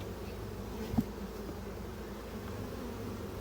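Honeybees swarm around an opened hive in a bee yard, a dense, steady buzzing hum close by with one brief soft knock early on and no voices.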